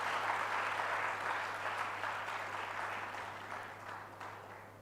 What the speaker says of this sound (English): तो बजाइए ना ताली तो